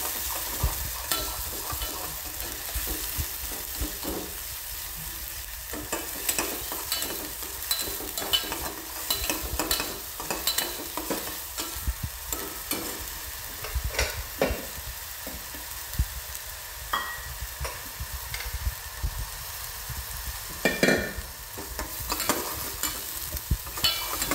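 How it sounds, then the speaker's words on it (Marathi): Ground spice paste for a masoor dal amti roasting in a pan, a continuous soft sizzle with frequent scraping stirs and utensil taps, up close and moderately loud with no voices. "आणि वाटण चांगलं भाजून घ्यायचं."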